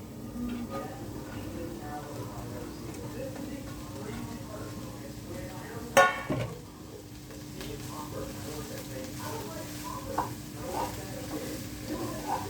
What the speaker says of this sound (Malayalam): നമുക്ക് നമ്മുടെ പാലൊക്കെ ഇട്ട് കൊടുക്കാം